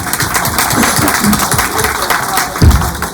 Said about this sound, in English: This is the presentation, and we ought to give a big round of applause to Sherry